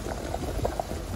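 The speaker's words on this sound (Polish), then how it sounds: "Dodaje się makaron do gotującej wody, on teraz będzie schodził sam na dół." A pot of water at a rolling boil with whole spaghetti added gives steady, close bubbling and gurgling that continues throughout, with no voices.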